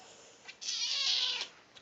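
A house cat lets out a single drawn-out meow close by, faint and alone, with a short softer chirp just after.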